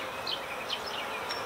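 Honeybees hum faintly inside a small, weakly populated hive of five frames, a soft continuous drone with a few brief wingbeat buzzes passing close.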